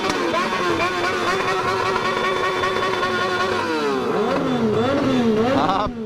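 A Yamaha XJ6 motorcycle with a straight pipe revs loudly up close, holding a steady raspy drone before climbing and dropping in several sharp throttle blips toward the end.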